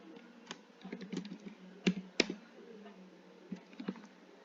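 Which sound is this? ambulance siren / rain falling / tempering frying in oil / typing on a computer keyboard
typing on a computer keyboard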